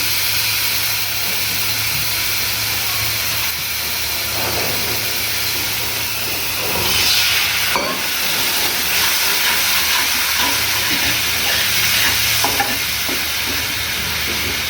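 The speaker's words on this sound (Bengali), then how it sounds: "এখন এটাকে নাড়াবো, একটু জল দিই" Spice mix for a pabda fish curry fries in a pan while water is added and stirred in, a steady loud sizzling hiss with a surge of steam and occasional scraping of a spoon.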